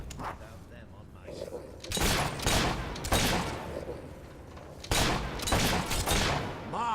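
Gunfire in the Fable III video game: a few bursts of shots that come in loud clusters over steady background noise, with voices and game sounds mixed in.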